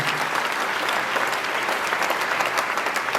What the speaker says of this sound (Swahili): Tupigie Bwana Yesu makofi